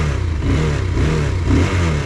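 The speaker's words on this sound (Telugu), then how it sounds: "ఇంజన్ నోటిన్నారు కదా, చాలా అగ్రెసివ్గా ఉంది." A Bajaj Pulsar 220F motorcycle engine revs aggressively and close by, with a steady loud drone that swells and eases over a couple of seconds, and no talking.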